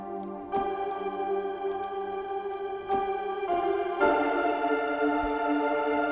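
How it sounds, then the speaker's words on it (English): Synth pads with crickets and insect chirps blended into them, heard as a steady sustained tonal drone with faint high clicks and chirps scattered through, swelling slightly louder near the end, no voices. "do you hear crickets? Do you hear bugs?"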